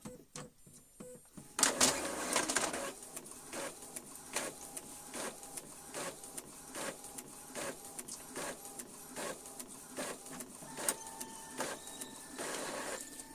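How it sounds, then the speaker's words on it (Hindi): An Epson L3210 printer runs a black and white photocopy at close range. It gives a series of rhythmic mechanical clicks and whirring feed passes, with a few beeps and no talk. "इसको लगाएंगे फिर से ब्लैक एंड व्हाइट फोटोकॉपी।"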